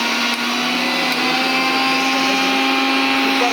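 A Disne Italy 1100-watt mixer grinder blender runs at full speed with a loud, steady whining motor hum that holds constant throughout, with no voices.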